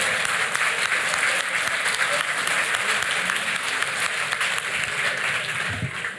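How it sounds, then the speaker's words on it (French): A conference audience at a political forum applauds loudly to welcome a round-table chair, producing sustained, even clapping throughout with no speech over it. "qu'on peut applaudir très fort"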